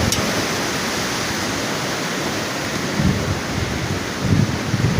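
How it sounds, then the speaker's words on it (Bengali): Strong storm wind roaring in a steady, loud broadband rush with gusty swells toward the end, no voices. "এই বিশাল জোরে কিন্তু ঝড়টা হচ্ছে"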